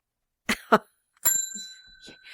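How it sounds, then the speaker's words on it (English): A bell rung on a podcast, struck with a bright ring that lingers as a clear sustained tone after two short thumps, with faint movement noise around it. "That's what the bell's there for, so they know."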